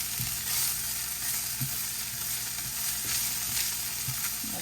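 Almonds stirred in a hot frying pan for a pork medallion and rice dish, giving a steady close sizzle with soft scraping taps of the spoon scattered through, and no talking.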